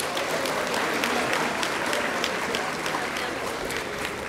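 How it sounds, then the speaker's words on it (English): An audience at a junior science fair awards ceremony applauds chemistry winners with steady, dense clapping that holds at an even level, and a voice is briefly heard under it. "let's give all of chemistry a round of applause"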